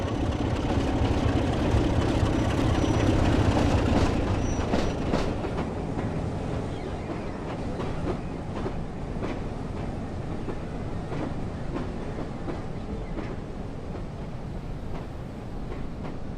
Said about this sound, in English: of the Class 33 locomotive. We can just see it coming in now.